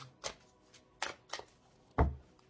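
Tarot cards being shuffled and cut, heard as a few short, close papery riffles and slaps spaced about half a second apart, the last one the loudest.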